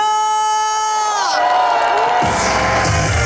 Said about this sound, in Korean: 함성 주세요.